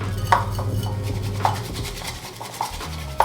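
A bamboo whisk handled in a bowl: a few light scraping, tapping strokes at irregular intervals over a low steady kitchen hum, with no voices.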